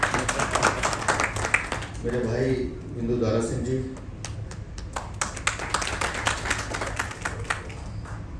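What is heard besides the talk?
audience clapping at press conference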